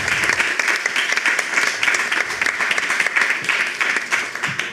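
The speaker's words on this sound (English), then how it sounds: "Give him an applause, please." A convention panel audience at Lucca Comics & Games applauds in a dense, lively burst of close clapping that stays loud and steady throughout.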